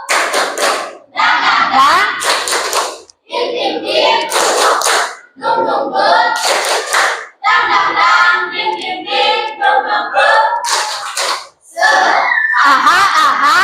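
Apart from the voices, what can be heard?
class doing a rhythmic spirit clap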